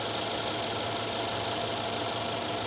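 An old Mercedes engine running at a steady idle, an even, continuous mechanical drone heard close up without any shaking or knocking.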